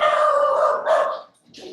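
A dog lets out a couple of close, loud barks that stretch into a short howling whine, then briefly goes quiet before a fainter yip, with no voices over it.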